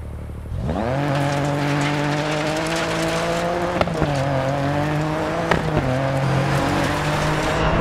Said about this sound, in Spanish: Usa los frenos para hacer que el coche aminore y después toma la curva